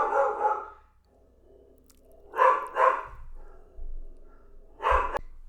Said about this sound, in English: Sorry, had to calm the dogs down.